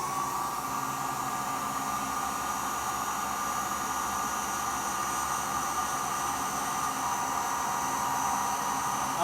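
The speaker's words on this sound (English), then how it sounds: "we'll come back with our heat gun and shrink the butt connectors as well" A heat gun shrinking butt connectors during a trailer brake controller wiring install, a steady, even blowing hiss with a constant fan whine and no change in pitch.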